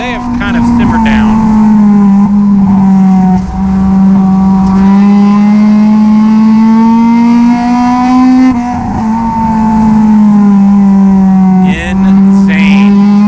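NASCAR Division III enduro race cars roar past the start-finish line in a loud, sustained engine drone that rises and dips as cars pass, while an announcer talks over it throughout.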